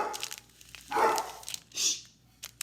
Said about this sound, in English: there's my grand doggy barking